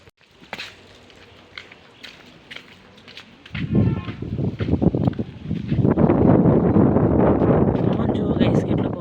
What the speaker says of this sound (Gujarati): જો ગાઈસ કેટલો પવન છે।